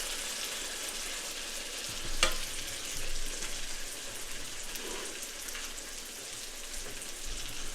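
Hot dogs and creamed chipped beef sizzle side by side in a split pan, a steady close frying crackle with a few louder pops, no talking.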